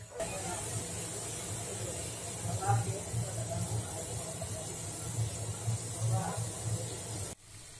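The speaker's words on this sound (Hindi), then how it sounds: "एक आधा ग्लास रह जाए तब तक उबालते रहिए।" Water boiling in a pot with a Helicteres isora pod for a decoction gives a steady close hiss and bubbling rumble, with a couple of brief louder bubbling surges.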